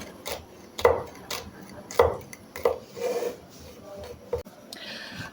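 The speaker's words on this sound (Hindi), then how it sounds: "मिर्चें काट लेंगे पतली पतली।" Knife chopping green chilies thinly on a cutting board, a few sharp irregular taps close by with softer scraping between them, no voices.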